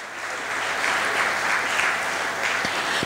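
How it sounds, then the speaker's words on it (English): A graduation ceremony crowd breaks into a round of applause, a steady, moderately loud bed of many clapping hands heard from a little distance, with no talk over it. "Let's give him a round of applause for this effort."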